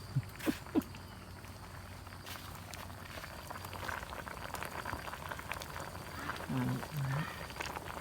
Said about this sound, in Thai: ให้มันเดือดไปเรื่อย ๆ ยิ่งเดือดนานกลางยิ่งเปื่อยยิ่งดีนะครับ